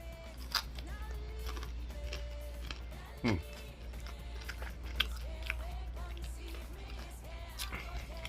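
Crunchy chewing of small fried fish at a meal, close biting and crunching bursts over a steady low hum, with voices talking at times.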